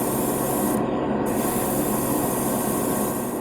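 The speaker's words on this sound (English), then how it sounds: "this advanced Seeker seems to be spraying really nicely" An Advanced Seeker airbrush spraying paint onto a gray primed spoon, powered by a Turbo X Mini compressor: a steady, loud, close hiss of atomized air that briefly drops in pitch before resuming, with no speech.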